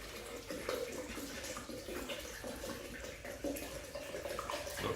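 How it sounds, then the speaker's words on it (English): A litre of boiling water poured into a blender for a homemade garlic, turmeric and ginger cold and flu tonic, a continuous close splashing gush that runs steadily throughout. "What we do is we put a litre of water"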